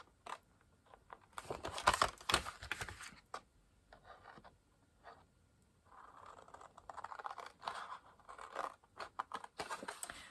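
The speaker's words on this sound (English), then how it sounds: "we're going to cut up all of our vertical score lines" Scissors cutting card along score lines while making a book box, giving dry scraping snips in bursts with pauses between, close and fairly quiet.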